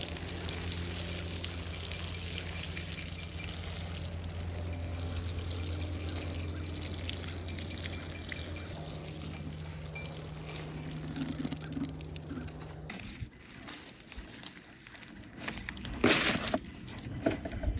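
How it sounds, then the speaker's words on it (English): Water runs steadily from a hose or tap while newly planted plants are watered in, with a continuous trickling flow that holds nearly constant before shifting and briefly splashing toward the end. "he's gonna water them in good."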